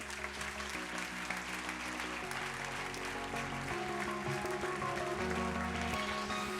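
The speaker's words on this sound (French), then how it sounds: "je vous demande d'applaudir, d'accueillir, comme il se doit, Elisabeth Chungi." An audience at the Hello Women 2023 event applauds to welcome a speaker to the stage, sustained dense clapping with music playing underneath throughout.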